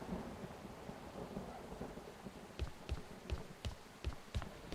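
Steady rain falls with a low rumble of thunder in a farming video game, then a run of regular thudding impacts, like footsteps, sounds toward the end.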